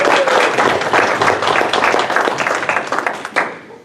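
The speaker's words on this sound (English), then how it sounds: "I think we need to give Jenny and Mike a huge round of applause" An audience at an anthology winner recognition event applauds with dense, sustained clapping from many hands, loud and close, thinning out toward the end.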